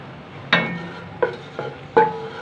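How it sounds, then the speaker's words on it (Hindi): Black pepper and black cardamom going into oil with ginger-garlic paste for a liver curry, heard as four sharp metallic clinks and scrapes of a spoon against the pan over a faint low sizzle, close and otherwise quiet. "मैं डाल दूँगी काली मिर्चें और बड़ी इलायची"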